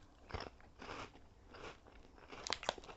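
Doughbrik's Wavers extra cheesy crisps, airy and flavoured with cheese and tomato powder, are bitten and chewed close to the mic, producing brittle crunches that grow sharper toward the end.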